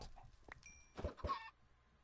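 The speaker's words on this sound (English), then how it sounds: "so now there's four chickens" Soft clucking from Minecraft chickens, a few short calls close together with faint electronic chimes, quiet overall and no talking.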